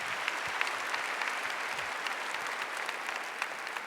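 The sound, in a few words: applause at an awards ceremony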